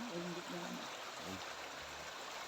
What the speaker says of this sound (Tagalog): Buti hindi na uubusan ng tubig yung sapa rito sa pinahugasan nila nanay.